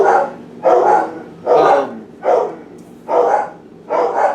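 Dogs bark in the background, six loud, separate barks or short bursts spaced about every half second to a second, with no talk over them.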